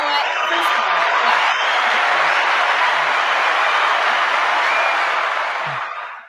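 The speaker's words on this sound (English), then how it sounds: "You can applaud if you want" Studio audience breaking into applause, a sustained wash of clapping with a few whoops that holds steady for several seconds before tapering off at the end.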